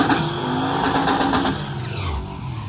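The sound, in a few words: race car doing a massive burnout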